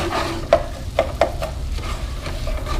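Onions and garlic fry in a pan while cooking dinner at home, a steady close sizzle broken by a few sharp taps of a stirring utensil, with no talk.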